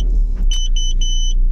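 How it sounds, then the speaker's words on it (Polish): An Opel Astra running on gas after a gas filter change gives off a high, thin squeal in short repeated bursts over a low steady engine rumble, close by. "Jednak piszczy."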